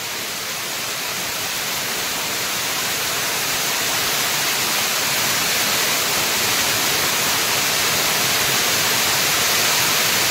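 A forest waterfall roars steadily over wet, slippery rocks, a dense broadband rush that swells slightly and holds loud and close throughout with no voices.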